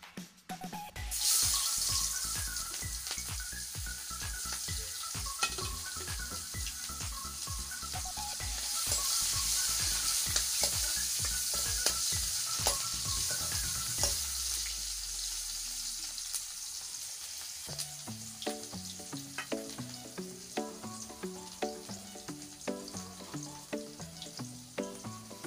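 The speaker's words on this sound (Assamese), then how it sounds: "এতিয়া মাছ ভজা কেৰাহীখনতে মই ইয়াত দিছো পিঁয়াজ।" Sliced onions hit hot oil in a wok just used for frying fish for a fish curry, a loud, steady sizzle that carries on with clinks and stirring, up close and without voices.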